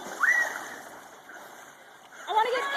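Water splashing in an outdoor swimming pool, a continuous churning wash with a louder burst near the start and another toward the end, with children's voices calling over it.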